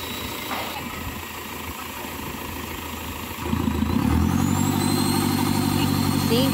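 Isuzu Trooper 4JX1 diesel engine idling with a misfire and wandering RPM, a steady low rumble that grows louder and rougher partway through, close by.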